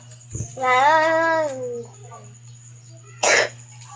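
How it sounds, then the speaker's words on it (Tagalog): A single short, sharp cough near the end, after a drawn-out wavering vocal cry, with a low steady hum throughout. "ubo na kag may wala mo tambal sa ubo no"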